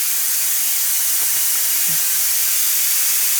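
Steam hisses continuously and loudly from the release valve of an electric pressure cooker as it vents pressure, a close, steady rush with no break.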